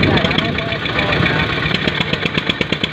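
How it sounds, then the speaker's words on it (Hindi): An Eicher tractor engine runs with a rapid, even chugging idle, close and loud, its regular knocking pulses continuing throughout with voices audible in the background. "वो भी स्टार्ट होगा ट्रैक्टर।"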